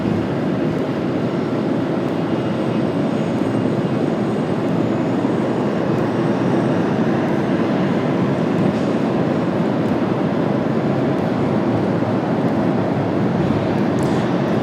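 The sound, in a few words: British Airways Boeing 777-200 jet aircraft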